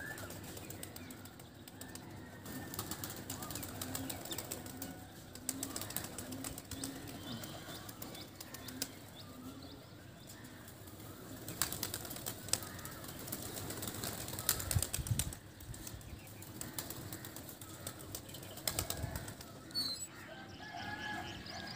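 Racing pigeons released at a pigeon-flying tournament lift off with soft bursts of flapping wings, faint and scattered against open outdoor ambience with distant bird calls.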